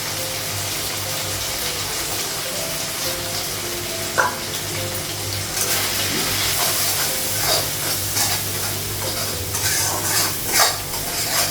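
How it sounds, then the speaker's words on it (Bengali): Spices with cumin powder fry and are stirred in a pan, a loud steady sizzle with scraping stir sounds that grows more active and hissing partway through. "মশলাটা সব ভাজা হয়ে গেছে"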